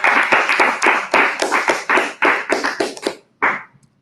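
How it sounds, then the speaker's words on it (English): A small audience at a parish quiz claps for winners, a close, uneven burst of handclaps in irregular bunches that thins out and stops just before a last brief patter. "So let's clap for the winners of round 1."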